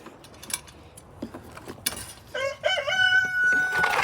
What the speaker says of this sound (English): Got these two roosters here.